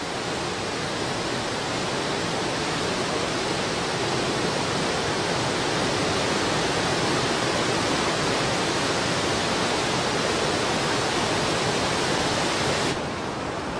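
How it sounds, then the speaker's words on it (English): The biggest waterfall on the Kunene River in Namibia roars as a dense, unbroken wash of white noise, loud and steady throughout with no voices. "just yards from where they must stop is the biggest waterfall on the Kunene"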